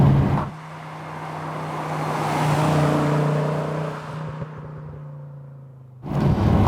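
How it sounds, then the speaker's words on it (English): A Fiat Coupe 20v Turbo's exhaust drones steadily while driving, a smooth sustained note that swells and fades slightly, heard from inside, with no talk. "I expected the exhaust in this to be really rather raucous and unbecoming of what is now a proper classic, but actually it's really nice"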